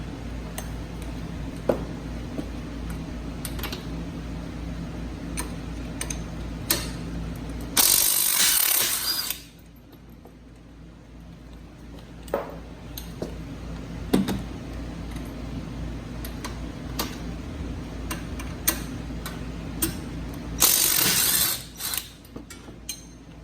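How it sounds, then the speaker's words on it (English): A pneumatic impact wrench with a 17mm deep socket rattles in two loud bursts on a strut nut of a Fiat 500, separated by clicks and metallic tool handling. "I use a deep socket 17mm with my impact on the nut"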